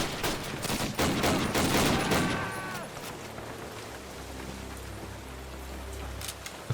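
Gunfire in Call of Duty: United Offensive, a WWII shooter: a rapid burst of loud automatic shots in the first seconds, then scattered distant firing over a low rumbling battle ambience.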